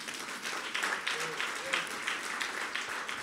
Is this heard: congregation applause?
yes